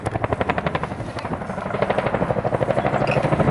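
A military helicopter performs a wingover display at the Duxford summer air show, its rotor thumping in a steady, rapid chop. The sound grows slightly louder and nearer throughout, and no one speaks.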